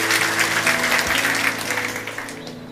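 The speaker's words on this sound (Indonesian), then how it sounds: "Kita beri tepuk tangan untuk kebenaran ini." A church congregation at a Sunday worship service claps together, a loud, even wash of many hands that carries on steadily, then thins and fades toward the end, with no voices over it.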